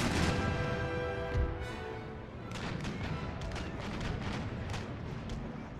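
Naval broadsides in Empire: Total War, with ship cannons firing as dull booms and crashing impacts that roll into a dense, rumbling barrage, loud and continuous over a few seconds.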